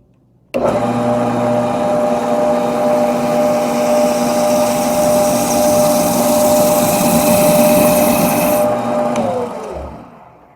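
A 12-inch disk sander mounted on a lathe whirs steadily and loudly for about nine seconds while a crepe rubber cleaning block is pressed against the spinning sandpaper, giving a continuous rubbing hiss over the motor hum before it spins down.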